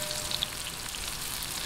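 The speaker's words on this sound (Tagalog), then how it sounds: "Hintayin lang natin lumambot-lambot lumambot yung sibuyas bago sa atin isusunod yung ating giniling." Chopped onions sautéing in a pan for gising-gising, a steady, close sizzle of frying with a faint crackle and no voices over it.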